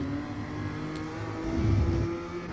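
BMW M2 CS engine in iRacing at Oulton Park revving steadily in fourth gear, a continuous sim-racing engine drone that swells louder toward the end, heard alone.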